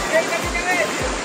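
Rushing water from the Zenith waterfall at Lonavala sounds as a broad, steady roar, with a voice speaking briefly over it.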